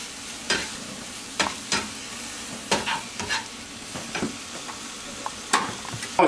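Fresh spinach seasoned with salt and pepper sizzles gently in a pan while a utensil stirs it, giving sharp scraping clicks at irregular intervals over a soft, continuous frying hiss.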